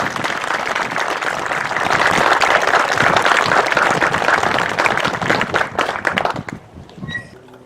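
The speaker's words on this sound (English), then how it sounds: "give a round of applause to those of our men and women serving away from home today in military service" A crowd at the Layton City veterans honors ceremony in Utah gives a long, loud round of applause that swells, holds dense and steady, then thins out into scattered claps.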